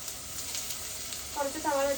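Onions fry in a pan for beef fry with a steady moderate sizzle, close by, as a voice briefly murmurs near the end.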